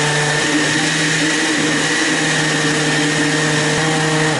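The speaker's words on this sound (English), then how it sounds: "This is going to make a full container here on my blender." A kitchen blender chopping a full container of apples for Pennsylvania Dutch apple butter, running loud and steady at close range with a constant whirring drone throughout.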